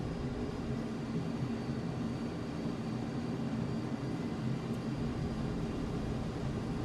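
A Dark Star aircraft in Microsoft Flight Simulator gives off a steady, low, broadband engine drone that stays constant throughout at a modest level, with no voices.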